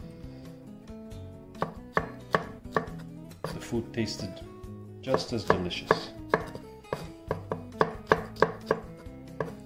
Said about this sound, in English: Roughly chopped again.